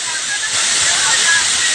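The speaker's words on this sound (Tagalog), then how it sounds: "Talagang walang tigil ang buhos ng galing ng sa bundok yung pulso. Tuloy-tuloy ang buhos ng tubig." Mountain water pours without pause in a loud, continuous rushing hiss, close by and steady.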